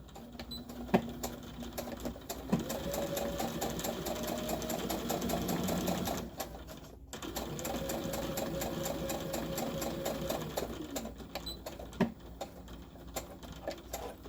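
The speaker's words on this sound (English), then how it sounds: "we're going to stitch that closed." A sewing machine stitching closed a fabric hanging storage pod, two sustained runs of rapid mechanical stitching with a pause between, fairly faint and close, with small clicks of handling around them.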